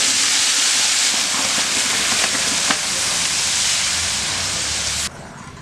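Ground tomato paste poured into hot oil for tomato thokku, giving a loud, continuous, close hiss of sizzling that cuts off sharply near the end, with no talk.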